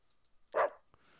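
A dog barks once in the video game Deadly Premonition 2, a single loud, close yelp that fades into quiet ambient game background.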